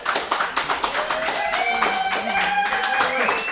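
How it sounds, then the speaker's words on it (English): Applause for a boys' football head coach and his daughter at a playoff broadcast, a crowd clapping steadily throughout under a voice and tonal sound, moderately loud and continuous. "Please give them a round of applause."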